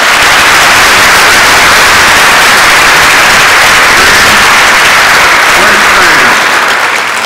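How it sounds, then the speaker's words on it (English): A church congregation applauding at a Confirmation Mass, with dense, loud, continuous clapping that fills the whole stretch and eases slightly at the very end. "Clap for him, too."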